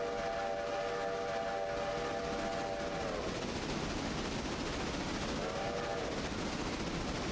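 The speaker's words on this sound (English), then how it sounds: "for the whistle crossing." Two blasts of a steam locomotive whistle sound at a crossing in the Railroader video game: a long first blow, then a shorter one a few seconds later, both over a continuous rolling rumble of the train.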